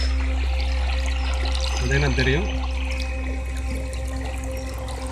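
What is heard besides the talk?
water flowing from a pipe into irrigation water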